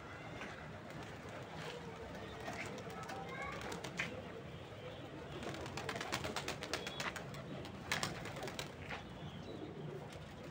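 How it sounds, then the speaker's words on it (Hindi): A flock of about 50 pigeons coos and flutters nearby, with repeated wing claps and soft calls rising over the flock's steady rustle while a voice talks faintly underneath. "50 कबूतर उड़ा दिए हैं आज।"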